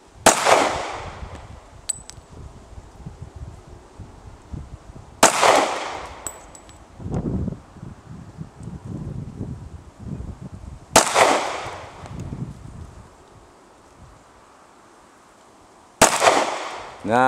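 Loud gunshots at an outdoor shooting range in Guam, four sharp reports spaced several seconds apart with echoing tails, and people talking between the shots.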